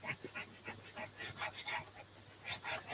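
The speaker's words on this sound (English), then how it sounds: "give it another good burnish" Paper laid over a whiteboard eraser is rubbed firmly in a crafting session, giving a steady run of close scratchy rubbing strokes, about a dozen quick back-and-forth passes with a rasping texture and no talk.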